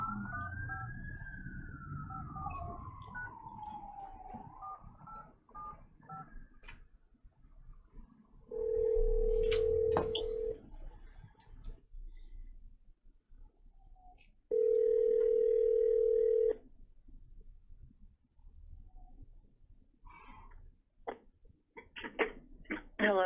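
A telephone line tone sounds twice in steady, loud, flat blocks about two seconds each while a call is placed from a county board meeting, with a sweeping siren-like tone at the start, a low background hum and short beeps at the end.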